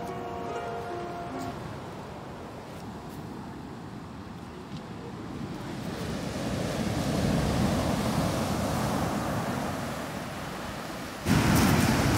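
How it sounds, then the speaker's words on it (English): Ocean waves on a beach in Cyprus wash and roar in a continuous hiss, swelling louder midway, with a sharper surge near the end; no voices. "The waves are getting bigger and bigger,"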